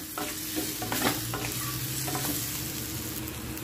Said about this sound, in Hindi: ये देखिए अब हम इसके अंदर नाश्ता डाल देंगे और अच्छे से भून कर